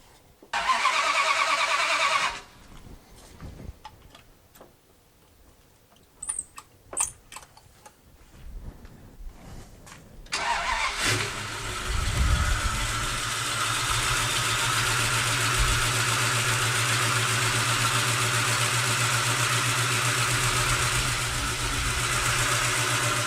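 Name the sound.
1967 Dodge Dart 360 Mopar engine starting and idling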